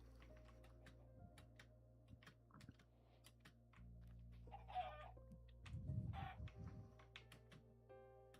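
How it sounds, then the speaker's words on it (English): Chickens cluck in the Minecraft video game, a few faint bursts over steady game ambience with keyboard typing throughout. "There's a lot of chickens here."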